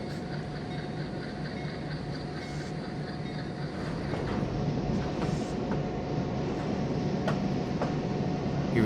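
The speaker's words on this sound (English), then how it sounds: "Here we are shoving back the cut that's being delivered to the lumber mill." A train in Trainz 2019 shoving a cut of railcars back toward a lumber mill gives a steady low rumble and hum of rolling stock, with faint clanks and creaks that grow slightly louder midway.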